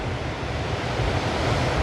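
Strong wind roars steadily across the microphone, mixed with the wash of surf, with no voices.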